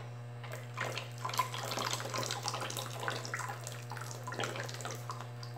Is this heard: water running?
yes